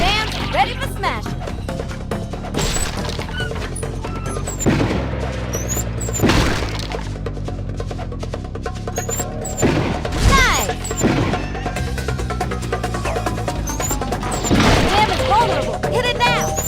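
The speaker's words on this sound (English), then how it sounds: "Dam's ready for smashing." A dam is smashed in the video game Madagascar: Escape 2 Africa, with repeated loud crashes and heavy whacks landing every couple of seconds over busy game music and voices.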